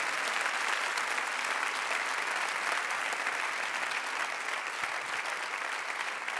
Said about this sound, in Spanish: Vamos a darle un aplauso a Cristo por la vida de Felsi y su esposa